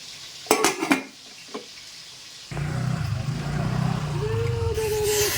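A few sharp clinks of utensils, then a steady hiss of fish frying in oil in a pan sets in and continues to the end.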